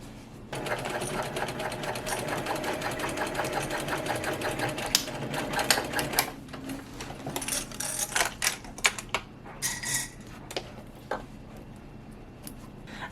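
A home sewing machine stitches the sides of a quilted shoulder bag's main panels in a fast, steady run for about six seconds, followed by scattered clicks, handling noises and short bursts of stitching, with no talk.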